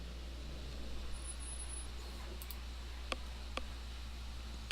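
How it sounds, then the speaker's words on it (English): Bus engine from the video game Everlasting Summer, a low steady rumble with faint road noise and a few sharp ticks, quiet and alone. "The sound of the engine brought me back to reality. The bus pulled over."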